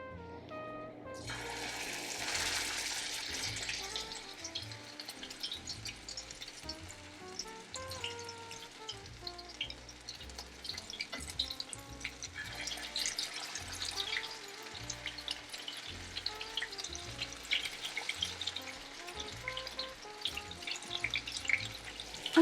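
Chicken meatballs fry in coconut oil in a pan, giving a continuous close crackling sizzle with bubbling and popping that stays steady throughout.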